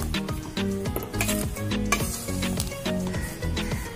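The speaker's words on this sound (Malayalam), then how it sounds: "അരിപ്പൊടിയും റവയും തേങ്ങ ചിരകിയതും ഉപ്പും എല്ലാം കൂടിയിട്ട് അങ്ങോട്ട് മിക്സായി." Rice flour, semolina, grated coconut and salt mixed together by hand in a bowl, giving busy, continuous scraping and rustling with rhythmic knocks against the container, close and fairly loud.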